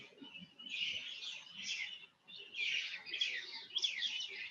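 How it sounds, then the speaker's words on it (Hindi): Birds chirp outdoors in bright, rapid trills, with two sustained bursts of twittering separated by a brief pause, fairly close and clear over faint low background noise. "जो पशु पक्षी हैं, उनकी आवाजें हैं, उनके संगीत हैं"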